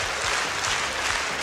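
Brief burst of studio audience applause on a Ukrainian comedy show stage, a dense even wash of clapping from a large crowd, loud and uninterrupted.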